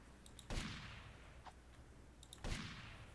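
Two sharp video game gunshot blasts about two seconds apart, in GTA Vice City remaster, with faint clicks between them, rather quiet and without any talk.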